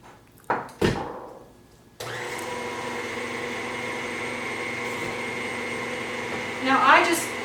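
An electric mixer creams butter and brown sugar for banana nut bread, starting after a few knocks and running as a steady, fairly loud whir with a brief louder rattle near the end.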